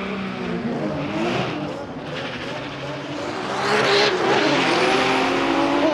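2WD race car launching hard in a qualifying drag race, its engine revving loud and rising in pitch with tire squeal, while a voice talks excitedly over the roar.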